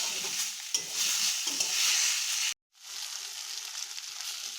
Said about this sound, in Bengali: এবার আমরা মশলাটা ভালো করে কষিয়ে নেব।